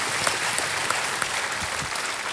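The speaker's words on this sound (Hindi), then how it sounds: "एक बार तालियों के साथ फिर से अभिनंदन हमारे एक्सपर्ट का" A studio audience on the Kaun Banega Crorepati set claps for an expert in a steady, full burst of applause, dense and even throughout with no voices over it.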